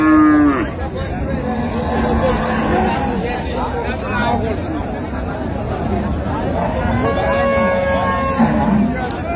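Cows with calves moo repeatedly at a busy village cattle market in Dinajpur, several loud nearby calls rising over steady crowd chatter and people talking throughout.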